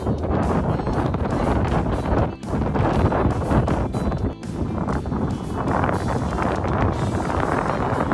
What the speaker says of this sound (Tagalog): Ayan, malakas po ang hangin.